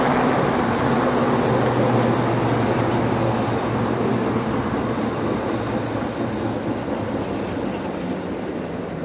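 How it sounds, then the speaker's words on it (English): A live train passes by Mount Dennis station, a loud, steady rail rumble and rolling hiss that holds nearly level for the whole stretch, close by with no voices. "Okay, here we go. It's a live train."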